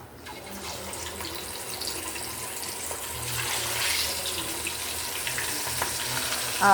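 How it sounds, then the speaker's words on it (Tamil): Steady broadband hissing and crackling of fish frying in hot oil, continuing for several seconds with a brief clatter at the end. "பபிள்ஸாக வருதா, இந்த மீனை நம்ம பொரிக்கிறதுக்கு அதில் போட்டுருவோம்"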